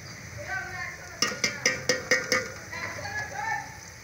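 Garlic fries for chicken masala in a pan, a soft sizzle under a quick run of six sharp utensil clinks against the pan, with faint talk.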